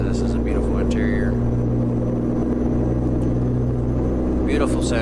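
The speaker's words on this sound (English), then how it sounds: "Beautiful sounds from this truck with the engine mod sounds." A Glider semi truck with a dump trailer in American Truck Simulator, with a modded engine sound, drones steadily at a low rumble, unbroken throughout, with a few faint higher chirps briefly on top.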